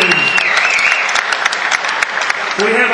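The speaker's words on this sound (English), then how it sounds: "How about a big round of applause for these 2 warriors?" Enthusiastic crowd applause and cheers for two boxers at a dockside fight night, close and dense with sharp individual claps and a brief voice at the start and end.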